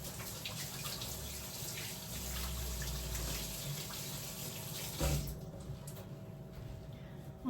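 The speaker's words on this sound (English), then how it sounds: "So I'm gonna rinse my hands really quickly." A kitchen tap runs in a steady, fairly quiet gush as hands are rinsed under it, then cuts off near the end and leaves a faint background hum.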